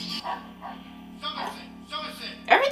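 Dogs in the 2007 film War give short barks and yips amid a low hum, with people talking over and between the barks, ending in a louder yelp.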